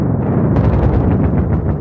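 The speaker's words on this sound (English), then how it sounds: "We are going to fire up the hot take cannon." A booming cannon-like blast sound effect erupts in a burst of rough, explosive rumbling that rolls on for nearly two seconds, loud and close, with no voices.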